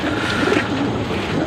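Racing pigeon cooing at a derby race loft, soft low coos close by over a steady background hum, with no talk.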